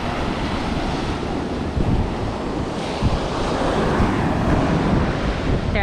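Ocean waves wash onto a sunny beach in a steady, loud rushing surf, mixed with heavy wind buffeting the microphone, and no voices.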